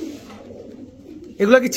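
Pakistani pigeons coo softly and low in a steady murmur, then a louder burst of cooing and rustle rises near the end, with people talking nearby.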